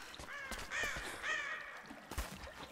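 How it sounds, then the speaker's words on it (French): Crows caw in the Rise of the Tomb Raider video game, several harsh calls in quick succession at moderate distance, with no talk over them. "Avec les corbeaux qui veulent nous bouffer la peau"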